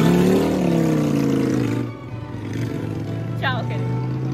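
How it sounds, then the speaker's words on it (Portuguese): A motorcycle engine drones loudly nearby on a street by the Neva River in Russia, its pitch shifting as it passes, with someone talking over it. "Essa moto tá me atrapalhando um pouco."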